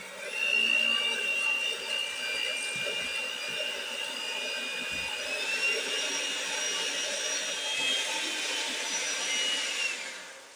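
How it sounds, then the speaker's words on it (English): An electric mixer whips cream for banana pudding, giving a steady high whirring drone, close and fairly loud, that runs unbroken for about ten seconds and eases off at the end. "Now I got my mixer, and we're going to mix this cream."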